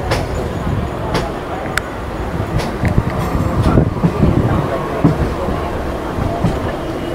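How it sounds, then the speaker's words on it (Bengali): An AC local train runs on the Ranaghat line, giving a loud steady rumble with wind-like roar and occasional sharp clicks and clacks. Faint crowd noise sits beneath. "এখন লোকাল ট্রেনের জার্নি তোমাদের সঙ্গে শেয়ার করছি"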